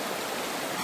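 Water in a stream at Smoko campground rushes past in a constant, dense wash of noise, near and steady throughout the brief moment.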